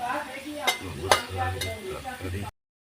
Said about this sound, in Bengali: করে ভেজে নিয়েছি গরম হয়ে গেছে